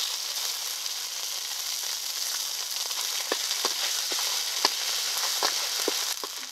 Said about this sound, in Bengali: জিরে আদা বাটাটাকে একটু ভেজে নিয়েছি।